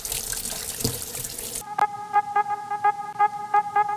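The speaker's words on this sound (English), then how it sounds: "Okay, guess I'll wash my hands." Tap water runs into a kitchen sink for hand washing, a steady rushing stream for about a second and a half, then stops, followed by a few sharp clinks and rhythmic tapping.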